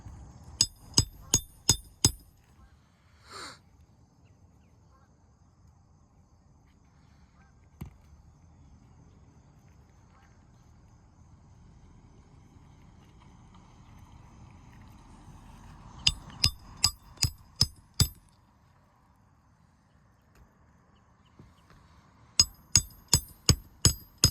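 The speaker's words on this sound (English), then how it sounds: "nailing these nails back in" Hammer driving nails back into an asphalt shingle roof already losing granules, in three quick bursts of five or six sharp, ringing blows, with long quiet stretches between and a single stray knock in the middle.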